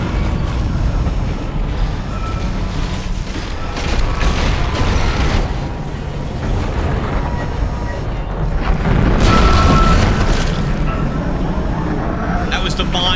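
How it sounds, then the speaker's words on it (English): A mine blast strikes a ship in the sci-fi horror game Dead Space, rolling in as deep booming rumbles that swell and fade over a dense, noisy game soundscape. "That was the mine that hit us there."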